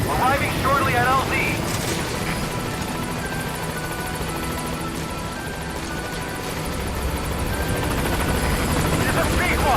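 Support helicopter in Metal Gear Solid V arriving at the landing zone, a loud continuous rotor thump and engine roar throughout, with a radio voice speaking over it.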